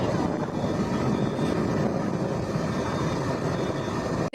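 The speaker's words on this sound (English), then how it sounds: "New Shepard has cleared the tower." Blue Origin's New Shepard rocket engine burning during launch, a continuous broad rumbling roar, steady and loud from start to finish before cutting off abruptly at the very end.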